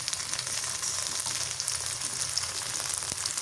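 Dried chili, green chili, ginger and garlic pastes frying in a pan for a village-style chicken curry, a steady bright sizzle holding evenly throughout with no voices.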